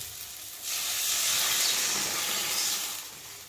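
Water poured into a pan of well-fried spice masala for a Bhola fish curry bursts into a loud hissing sizzle after a short quiet moment, then holds as a steady steamy hiss that fades slightly.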